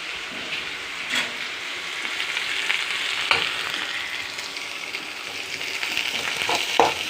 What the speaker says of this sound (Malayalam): കടുക് പൊട്ടിച്ചെടുത്ത് വെല്ലുള്ളിയും നുറുക്കി വെച്ച പച്ചമുളക്, ക്യാരറ്റും ഒക്കെ ഇട്ടെടുത്ത്